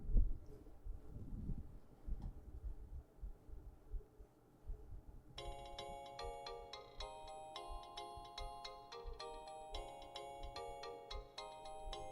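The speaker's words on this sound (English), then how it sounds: "I have so many notifications all of a sudden." A phone's notification chimes go off in a rapid cluster of bright, overlapping electronic tones after a stretch of low background noise.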